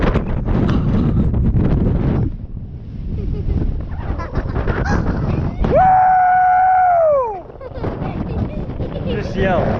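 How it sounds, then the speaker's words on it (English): Strong wind buffets the microphone on a hilltop on Steamboat Rock above Banks Lake, a constant loud roar and rumble with people talking over it and a brief, sustained yell partway through. "Feel how windy it is up here."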